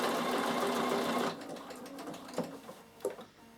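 Bernina sewing machine quilting a fabric basket, its steady motor whir running loud and continuous at first, then dropping to softer stitching with a few clicks and bumps.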